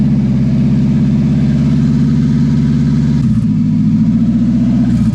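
A car engine runs with no exhaust attached, a loud, raw, throbbing idle close by that shifts in pitch and character partway through, continuous with no voices.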